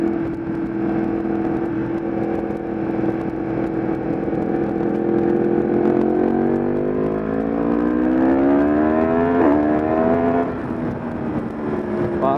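A Yamaha MT-10 motorcycle engine rises steadily in pitch as it revs high, a loud, continuous whine climbing through the gears with a brief shift near the end.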